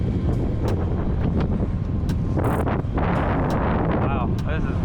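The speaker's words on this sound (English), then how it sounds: "Wow, this is windy." Strong wind buffets the microphone in a constant low roar, with gusty rumbling throughout.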